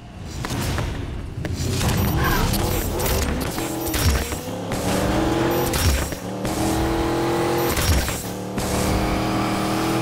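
An all-wheel drive Dodge Charger in the racing game Need for Speed: Payback roars and revs, its engine pitch climbing and dropping through gear changes, with occasional thuds and tire squeal, loud and continuous.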